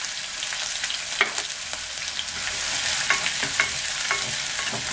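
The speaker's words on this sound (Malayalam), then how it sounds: "ഇതിലോട്ട് ഞാൻ 1 സവാള അരിഞ്ഞത് ഇതൊക്കെയാണ് ഇട്ട് കൊടുക്കുകയാണ്" Chopped onion sizzles steadily in hot oil after mustard seeds have popped, with broadband frying crackle, intermittent spoon-stirring scrapes and small pops, close and fairly loud, no voices.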